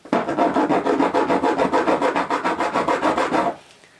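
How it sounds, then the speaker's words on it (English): A hand file rasps an indent into the side of a piece of mild steel, about twenty quick, even back-and-forth strokes in a steady rhythm, close and loud, then stopping abruptly. "get the file, and just try and file an indent into the side of the mild steel"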